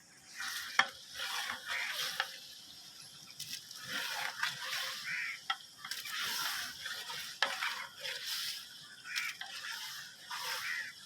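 Chopped tomatoes going into a large pot of frying chicken biryani, about eight kilos, heard as quiet intermittent stirring and scraping over a soft sizzle, with a few sharper clanks of a ladle against the pot.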